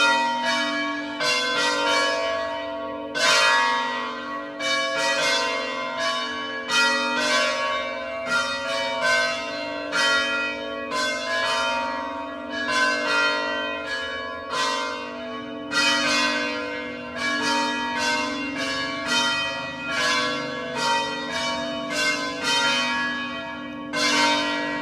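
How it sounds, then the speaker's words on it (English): Church bells at the Monterosso al Mare monastery ring on and on, overlapping strikes with long ringing tones and a steady, loud peal throughout, no voices. "The bells are chiming at the Monterosso al Mare Monastery."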